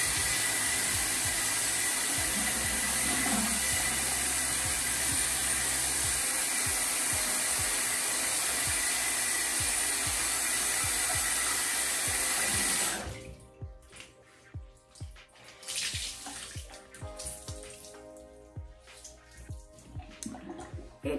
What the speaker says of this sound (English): now I'm going to wash it off